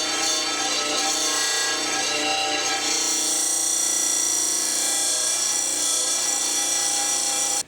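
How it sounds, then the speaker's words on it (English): A disc sander runs steadily in a workshop, its loud, even whir holding for several seconds with a constant layered hum before cutting off abruptly at the end. "This is a disc sander, which works on the same principle, except that it's a spinning disc"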